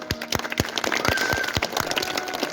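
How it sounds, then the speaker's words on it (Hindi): Scattered claps from an audience at an Independence Day speech, individual hand claps ringing out at an irregular pace, fairly close, with no talk over them. "तालियां"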